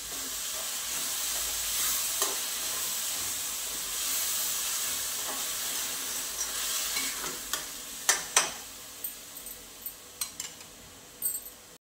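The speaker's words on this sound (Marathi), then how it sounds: "आता हा मसाला परतल्याच्या नंतर याच्यामध्ये टोमॅटोची घालून घेऊया प्युरी" Steady frying hiss from masala and tomato puree cooking in a pan for peas kurma, with a few sharp scrapes and clanks of stirring toward the end.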